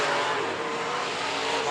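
Street stock race cars roar around a speedway in a sustained loud engine drone with rising and falling pitch as they pass.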